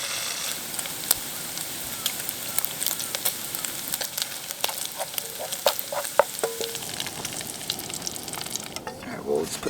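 Bacon frying in a pan at a campsite, a steady crackling sizzle with scattered sharp pops and the occasional scrape of stirring, heard up close and without talk.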